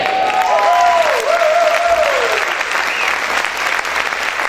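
A church congregation bursts into loud, sustained applause, with a voice calling out over the clapping in the first couple of seconds before the dense clapping continues alone.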